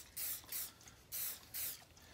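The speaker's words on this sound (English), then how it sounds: "spray this blade down with a little bit of ballistol." Ballistol lubricant sprayed onto a knife blade in a shed: four short, close hissing aerosol bursts with brief pauses between them.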